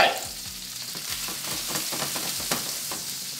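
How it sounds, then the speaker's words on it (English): Shrimp frying in a hot pan, a steady dense sizzle with crackling pops close up and no voices. "While that shrimp is there popping"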